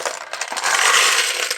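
Plastic Commodore 64 keycaps rattle and clatter as they are tipped into a jug, a dense burst of light clicking that swells and holds near the mic for over a second.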